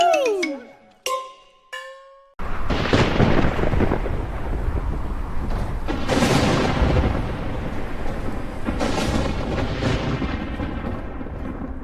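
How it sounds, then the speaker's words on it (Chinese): Loud thunder rolls and rumbles through a rainstorm, with heavy booming peaks that fade slowly, under a constant wash of falling rain. "总是打雷下雨，这样的鬼天气"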